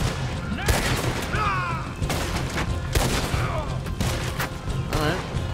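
Distant gunshots pop in a ragged volley during a Red Dead Redemption II shootout, with several sharp cracks spread across the stretch. Someone talks over the shooting.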